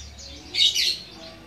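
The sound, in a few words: green leafbird and white-eye birds chirping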